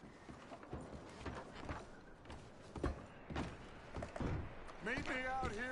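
Horse hooves clip-clopping in Red Dead Redemption 2, several slow, spaced thuds at moderate distance, mixed with quiet game ambience and a brief voice near the end.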